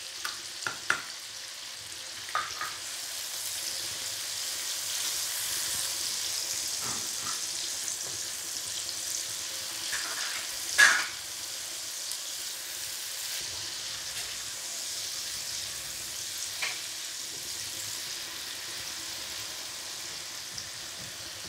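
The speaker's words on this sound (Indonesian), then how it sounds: "Kita goreng hingga matang." Sambal ingredients of chili, tomato, garlic and shallots fry with shrimp paste in a pan, a soft continuous sizzle broken by a few sharp utensil taps and stirring scrapes.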